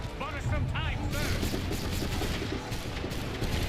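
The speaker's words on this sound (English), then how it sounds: "Why, yes, I do in fact like using cannons." Cannon fire and battlefield gunfire in the video game Assassin's Creed 3 rumble and boom continuously, with voices speaking over the heavy bursts.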